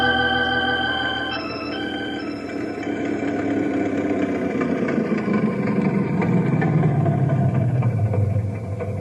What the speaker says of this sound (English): Your old Model A sounds good as new.